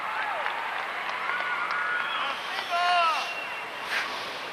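An arena crowd in Detroit applauds Olympic champion figure skater Alexei Yagudin, steady loud clapping and cheering that swells briefly, with a commentator talking over it.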